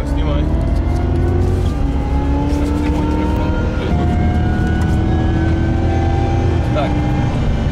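A chipped car with an automatic gearbox accelerates at full throttle, its engine note climbing loud and close, dropping at a couple of shifts, then rising again, with voices talking over it.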